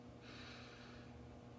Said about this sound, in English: just take a nice deep breath in